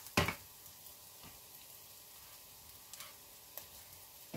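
Onion and garlic sizzle faintly in olive oil, a soft steady hiss broken by a sharp utensil clack at the start and a few lighter taps.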